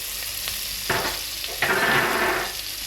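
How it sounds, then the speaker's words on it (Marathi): Pepper frying in oil and butter for a Goan beef or pork stew gives a steady, close sizzle, with a couple of louder spattering swells as the pan is stirred and no talking. "थोडीशी काला फ्राय"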